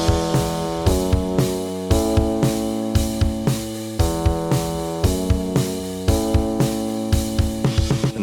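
An alternative pop song demo section plays in halftime, with a slow, heavy beat of punchy drum hits under sustained chords and layered instruments, steady and full throughout.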